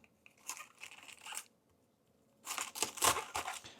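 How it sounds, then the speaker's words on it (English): A knife cuts the hard core out of a fresh cabbage for coleslaw, two bursts of crisp crunching and tearing separated by a short pause, close and fairly quiet. "That's the core. We want to cut that out."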